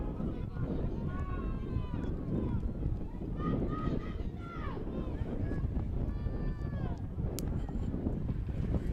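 Steady wind buffeting an outdoor microphone at a varsity high school football state semi-final, a constant low rumble with crowd voices and a whistle-like tone drifting over it.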